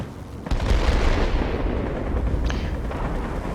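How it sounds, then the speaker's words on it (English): Sustained gunfire from the J4M fighter plane's guns in World of Warplanes, a dense rumbling rattle layered over steady engine drone, continuous and close. "so I'll just use the guns to finish him off"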